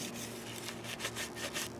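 Wooden outdoor furniture being hand-sanded, a steady soft abrasive rubbing with repeated back-and-forth strokes, close and fairly quiet, with no voices.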